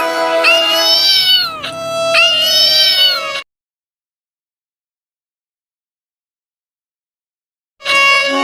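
A cat meows loudly in drawn-out, wavering cries for a few seconds, then silence, and another cry begins at the very end.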